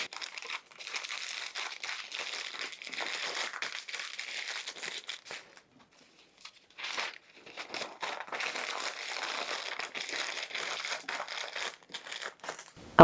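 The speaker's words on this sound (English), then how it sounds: "I want to wrap those in parchment paper." Parchment paper crinkles and rustles steadily as sourdough English muffin sandwiches are wrapped in a kitchen, with a brief pause midway and no talk.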